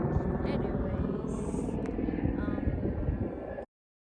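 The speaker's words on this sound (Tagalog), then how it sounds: "May helicopter sa taas." A helicopter passing overhead above a park full of flowers and green trees, a steady, fairly faint rotor rumble that holds for a few seconds before stopping abruptly.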